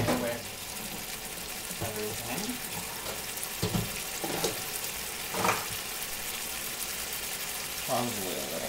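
Green beans hit a hot pan with tofu-chicken and onion, giving a steady loud sizzle and frying hiss with occasional clatters of stirring, and a person speaks briefly over it.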